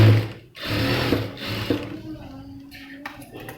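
A sewing machine stitches along a folded saree edge, its motor whirring steadily in close, continuous bursts with a short pause near the start and a brief sharper clack near the end.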